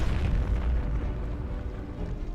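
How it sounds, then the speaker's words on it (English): A deep, rumbling explosion of a gunpowder magazine holding 70 tons of powder during a siege, heard as a loud, sustained low boom with no speech over it. "70 tons of gunpowder went up in a devastating explosion that made all further resistance useless"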